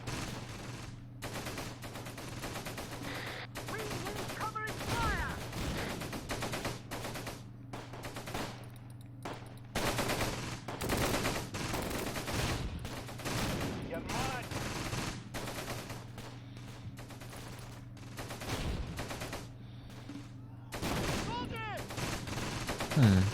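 Massed rifle and machine-gun fire from the World War II tactics game Close Combat, Gateway to Caen, crackles in dense overlapping bursts for the whole stretch, with heavier booms breaking through now and then and no pauses.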